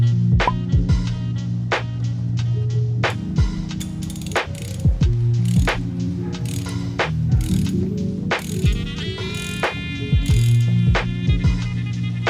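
A ratchet with a 36 mm socket loosens the oil filter housing on a 2009-era Porsche 997.2 C4S, giving steady, close, loud pawl clicking in repeated bursts with brief pauses between strokes.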